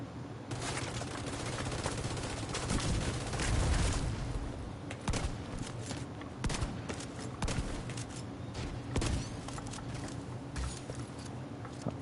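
Gunfire in The Division 2 video game, with dense, repeated sharp shots and bursts crackling throughout, interspersed with heavier thumps from a mortar over a continuous rumble of combat.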